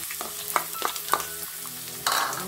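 Chopped onions go into a pot of Kenyan-style kienyeji chicken stew. A few scraping stirs come first, then a loud, steady sizzle breaks out near the end, heard up close with no talking.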